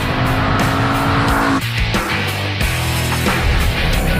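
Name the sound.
Ford Mustang Boss 302 driving hard, tires squealing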